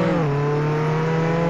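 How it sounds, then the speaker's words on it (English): Video game car engine revving steadily at a high pitch, a loud, continuous drone with a slight drop in pitch early on. "I don't know how to start this car."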